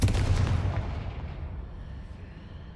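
A Confringo fire spell in Hogwarts Legacy explodes with a sharp, booming burst that rolls off into a decaying rumble over a few seconds.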